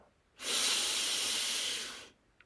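One long, deep inhale in a guided breathing exercise, close-miked and breathy, rising quickly and holding steady for nearly two seconds before tailing off, with no voice over it.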